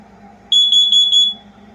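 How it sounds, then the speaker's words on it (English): A Kidde Nighthawk carbon monoxide alarm shrieks a single loud, piercing electronic tone close by, pulsing slightly for under a second before cutting off over a low room hum. "here is the Kitty Nighthawk carbon monoxide alarm."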